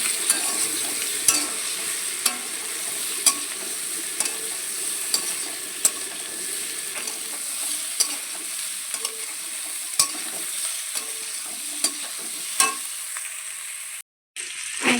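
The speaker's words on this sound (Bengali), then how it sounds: "আমার চিংড়ি মাছগুলো ভাজা হয়ে গেছে" Shrimp frying in a pan for a pumpkin and potato shrimp curry: a steady loud sizzle with occasional stirring scrapes and clicks throughout, briefly cut off near the end.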